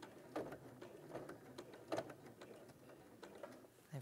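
A sewing machine stitches around a fabric edge, a soft, steady mechanical whir with faint ticking pulses heard close and fairly quiet.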